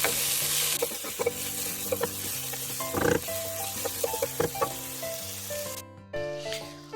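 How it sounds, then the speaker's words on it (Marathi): A large onion sautés in a pan, giving a constant sizzle broken by repeated scraping and knocking of a stirring utensil against the pan, with a few sharper clatters, until the frying noise cuts out near the end. "परतून घ्यायचा कांदा"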